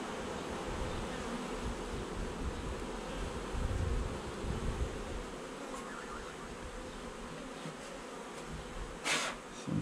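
Honey bees hum steadily around an opened hive during an inspection, a dense close swarm buzz that fills the whole stretch with no voices over it.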